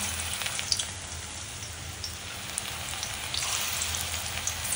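Fritters (bora) fry in a pan at night in a home kitchen, giving a faint, even hiss with scattered small pops throughout.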